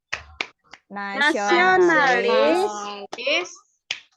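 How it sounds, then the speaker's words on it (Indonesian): A class of children claps together during a tepuk PPK classroom chant. Sharp, rhythmic hand claps come in short bursts before and after a sustained chanted voice line. "kita sama-sama dulu tepuk PPK ya anak-anak biar lebih semangat"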